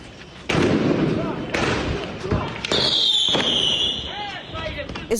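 Gunfire between two sides in the city of Hebron: several sharp loud bangs at irregular intervals, with a whistling, shrill tone toward the end, and voices talking throughout.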